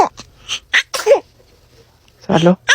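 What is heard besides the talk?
newborn baby sneezing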